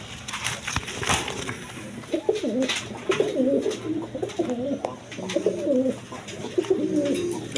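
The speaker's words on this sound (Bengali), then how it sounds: "কোয়ালিটি সম্পন্ন কবুতর একদম বিক্স সাইজের দেখার মতো কবুতর" Big-sized pigeons, a pair with a female and a male, coo in repeated soft throaty phrases through the middle and end of the stretch, close by over a steady background noise with a few faint clicks and rustles.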